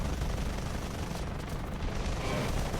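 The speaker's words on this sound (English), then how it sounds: "do you not see you getting shot at?" War Thunder battle gunfire, a dense, continuous roar of shots and rumbling explosions heard alone at steady loudness.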